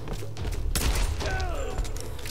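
Gunfire in the video game Tomb Raider (2013): a sharp burst of shots with a thudding impact, followed by a ringing, whining tail, fairly loud against a low background.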